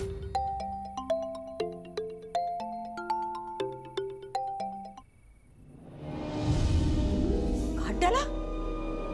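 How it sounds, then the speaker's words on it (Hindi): A melodic phone ringtone plays a repeating tune for a few seconds, then cuts off as a louder, noisy rush of sound takes over. "मनोरमा का फोन काट दिया?"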